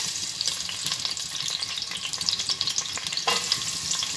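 Sliced onions sizzle steadily in hot oil in a pan for an aloo keema dish, a continuous crackling hiss with a brief stir, close and moderately loud with no talking.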